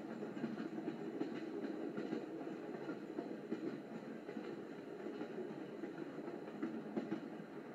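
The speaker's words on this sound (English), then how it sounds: "some train noises" A Dreamegg white noise machine plays a steady, soft train rumble with faint rhythmic clacking of wheels, heard continuously like riding inside a passenger car.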